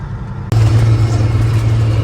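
A red farm truck's engine, used during corn harvest hauling, cuts in abruptly with a loud, steady low rumble and a continuous droning hum that holds for the rest of the moment.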